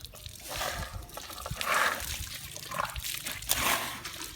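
Water trickles and splashes from a tap and hose in uneven bursts, close and moderately loud, with sloshing pulses throughout.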